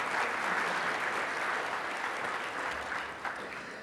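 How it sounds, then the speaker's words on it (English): Sustained applause from a large conference keynote audience, a thick even roar of many hands clapping throughout, fading a little toward the close, with no voices on top. "So I want to give you all a big round of applause for the work you do every day."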